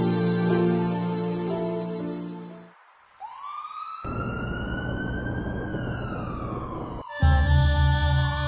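An ambulance siren wails in long rising and falling tones, loud and close, cutting over other noise that drops out briefly before returning.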